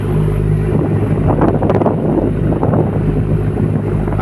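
Ferry boat setting off from Samal toward Davao, a loud, steady engine rumble mixed with buffeting wind noise throughout.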